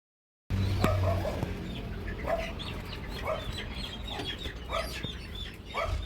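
Several Kaveri hens, about six weeks old, cluck and squawk in short bursts at irregular intervals at a poultry farm, fairly close, over a low background rumble after a brief silent start.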